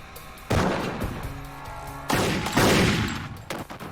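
A gunfight between six-shot revolvers and a semiautomatic assault rifle: two heavy volleys of rapid, loud shots with echoing tails, separated by a short lull and trailing off into scattered cracks.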